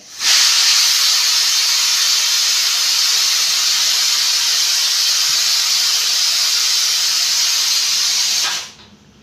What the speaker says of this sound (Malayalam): നമ്മളെ കുക്കറിൻ്റെ സൗണ്ട് തീരട്ടെ വിചാരിച്ചിട്ട്